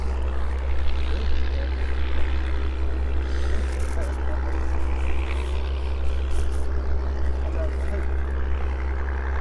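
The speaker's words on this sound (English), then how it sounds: "the Harvard and the Spitfire there as well, right in front this morning" A propeller aircraft, either a Harvard T-6 or a Spitfire, runs at East Midlands airport as a steady, loud, close drone with a broad roar that holds throughout. Speech sits underneath it.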